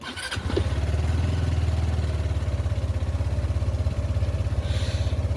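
An RKS motorcycle engine starts and then runs at a steady, loud, throbbing idle, close by, with its even low pulsing continuing throughout and no talk over it.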